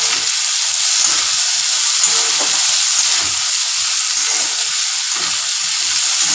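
Pumpkin and potato frying together with cashews and raisins in a pan, a steady loud sizzle with occasional soft stirring, close by and without any talking.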